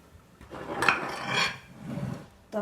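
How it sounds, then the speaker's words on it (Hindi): Spice pastes and lemon juice are stirred together in a dish for a chicken marinade, with a utensil scraping and clinking against the bowl in a couple of rising and falling strokes, close and fairly loud. "तो अब हम इन्हें मिक्स कर लेंगे।"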